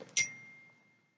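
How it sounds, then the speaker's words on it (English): A single bright ding rings out once, close and clear, then fades away over about a second in a quiet room. "And that bell went off"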